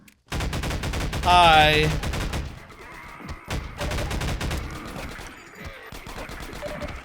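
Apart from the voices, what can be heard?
shotgun gunfire in video game Half-Life 2 Episode One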